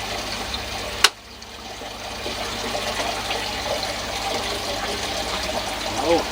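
Water runs steadily into a pond protein skimmer, a soft continuous rushing flow after a single sharp knock near the start, heard close and at moderate level.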